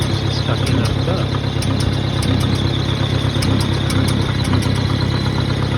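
A loader tractor's engine runs steadily at an outdoor tree-felling job, a continuous mid-pitched drone with faint knocking throughout, with talk faintly in the background.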